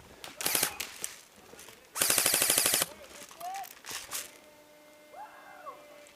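Airsoft guns fire during an outdoor game: a short rattling burst, then a longer rapid full-auto burst, followed by scattered single shots and a faint chirp-like sound.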